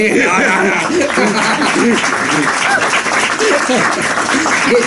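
A small gathering in Madrid applauds for a guest named Luna. The clapping runs steadily beneath overlapping voices, chatter and light laughter.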